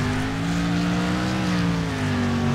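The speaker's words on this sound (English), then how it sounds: "We got to hear that car engine, man." A steady, droning car engine from a video game in derby mode hums continuously, loud and even, with a slight pitch shift near the end and no voices.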